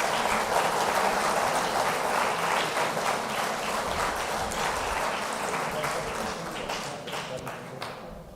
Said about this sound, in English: Ladies and gentlemen, let's honor him with a round of applause.